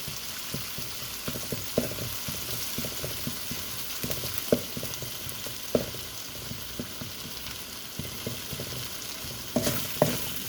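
Green chili and ginger fry in hot oil with a steady close sizzle and crackle, broken by scattered spoon stirs and pops against the pan, no voices.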